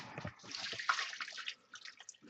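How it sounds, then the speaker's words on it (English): Homemade turkey stock splashes and trickles as it is poured into a pot, a soft, close, continuous liquid pour with small sloshes. "all this beautiful stock right here, this juice from that, I'm just going to pour that right in there"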